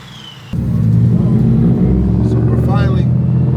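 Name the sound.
Ford F-150 truck engine on E85 warming up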